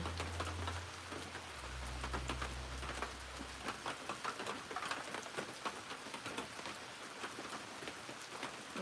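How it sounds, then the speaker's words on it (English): Rain falls steadily around a cabin in Hawaii as a quiet, even patter with scattered drips and taps. A low hum fades out during the first few seconds. "it's raining again"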